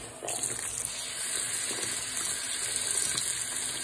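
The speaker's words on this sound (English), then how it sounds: "Let's put some more water for more effects." Water gushes steadily into a bubbling volcano science experiment, a continuous close pouring hiss that swells slightly and holds to the end, with no talking.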